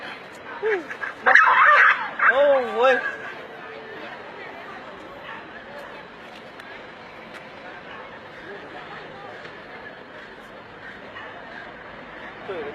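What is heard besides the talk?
dog barking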